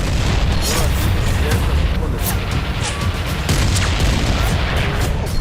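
Loud, dense blasts and rumbling booms from rocket attacks in Israeli cities at night fill the scene, with sharp bursts breaking through a constant roar of noise and distant voices.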